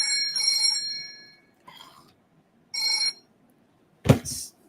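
A telephone rings in three separate bursts, each a bright, chiming electronic ring with pauses between, followed by a short louder clunk near the end; the calls come from a blocked number and no one speaks.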